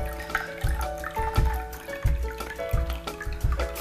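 Water is poured into a glass set on a kitchen scale for making cream puff dough. Gurgling glugs and splashes come up close in uneven bursts over a few seconds, with no talking.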